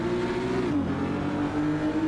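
A GT4 race car in Assetto Corsa revs hard, its engine note climbing, dipping briefly at a shift, then pulling again in a loud, continuous snarl.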